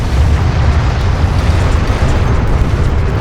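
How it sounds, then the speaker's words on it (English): Airstrike explosions in the real-time strategy game Homeworld: Deserts of Kharak: a continuous, heavy low rumble of blasts rolling together, loud and sustained with no talk. "Enemy airstrike inbound."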